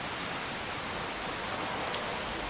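Steady heavy rain in Skyrim forms a dense, even hiss of falling water that fills the scene without pause, fairly loud and constant, with no voices.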